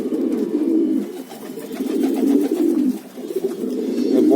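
Long-distance racing pigeons coo in a loft, their low, rolling calls overlapping in continuous waves, close and fairly loud with brief dips between phrases.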